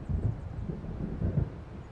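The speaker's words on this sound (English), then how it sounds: "It seems there's a storm coming." Low, rolling thunder from an approaching storm in the video game Alan Wake rumbles steadily with a few swelling surges, heavy and distant-sounding, with no voices.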